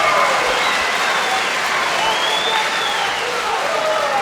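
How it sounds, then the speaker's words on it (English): A large MMA event crowd roars and applauds continuously and loudly after a big slam takedown in the cage, with a steady wash of cheering and clapping and a few whistles on top. "This crowd going wild as Grönvall tosses"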